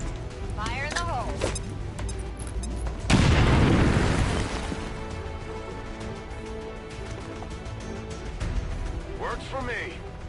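A grenade blast in XCOM 2 bursts loud and broad partway through, then decays over a few seconds under ongoing game ambience, with a voice talking before and after.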